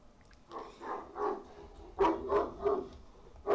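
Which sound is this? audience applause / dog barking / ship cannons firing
dog barking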